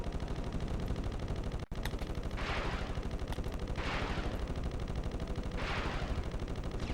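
Cannon fire from a combat ship in the Ratchet & Clank video game, a dense continuous rattle of rapid shots with rhythmic blasts swelling roughly every one and a half seconds.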